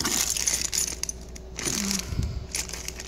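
Small metal screws, nuts and bolts clink and rattle against each other in a few short, faint bursts while being sorted by hand.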